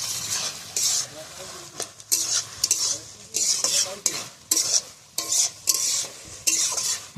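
Shrimp frying in a pan over a wood-fired stove is stirred in bursts, each scrape of the spatula riding over a constant close sizzle, with short pauses between strokes and light metallic clinks.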